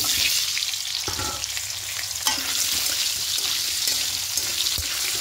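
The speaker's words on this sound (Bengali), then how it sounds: "এবার আলুগুলোকেও হালকা একটু লাল লাল করে ভেজে নেব" Boiled potato pieces fry in hot oil with a continuous crackling sizzle, punctuated by a few stirring clinks and scrapes, heard up close.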